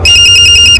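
Mobile phone ringtone playing loud and close, a bright electronic tone pulsing in quick, even beeps for under a second with no voices.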